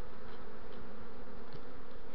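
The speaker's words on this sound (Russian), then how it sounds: "О, видно, там пчелы." Steady dense buzzing of bees inside a hollow linden tree, a continuous close hum that stays even throughout with no voices.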